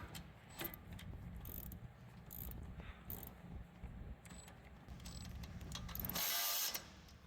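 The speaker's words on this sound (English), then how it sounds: "now we're gonna reinstall our bracket and run the bolt screw" Ratchet wrench clicking as it tightens brake caliper bracket bolts on a Ford Explorer's rear brakes, a steady run of small pawl clicks and creaks close up, with a louder burst near the end.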